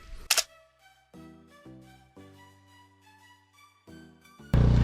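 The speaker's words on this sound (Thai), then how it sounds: "ถ่ายรูปสักแชะสองแชะดีกว่า" A camera shutter snaps once near the start and once more at the end while photos are taken at a temple, with soft background music playing between the clicks.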